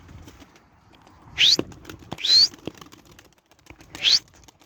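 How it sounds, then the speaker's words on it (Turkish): Tumbler pigeons released into flight, three bursts of wing flapping spaced apart, fairly close, over a quiet outdoor background. "Dört tane daha kuş atıyorum içlerine ben"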